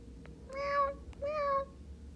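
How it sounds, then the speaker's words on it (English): Two clear, drawn-out kitten meows from a small cat being bought as a new pet, each about half a second long with a short gap between them, close and distinct over a low background hum. "This kitty will love to have a new home."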